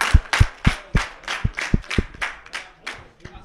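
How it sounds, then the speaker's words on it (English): A dozen or so crisp hand claps in a quick, steady rhythm, close and fairly loud, tapering slightly at the end, given in congratulation around a championship game. "Clap for you first"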